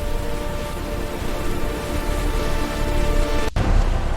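Heavy rain pours down steadily during a storm, a dense continuous wash of drops with a low rumble underneath, broken by one sharp cut near the end before the downpour resumes.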